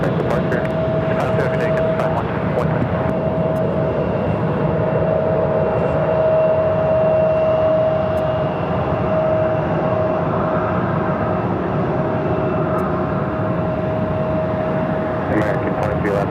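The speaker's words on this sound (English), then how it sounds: "Is American Airlines Flight 2059 heading to Boston in an A321neo." An American Airlines Airbus A321neo jet at Phoenix airport, bound for Boston, gives off a steady, loud engine roar with a sustained tonal whine that holds throughout, and a voice talks over it.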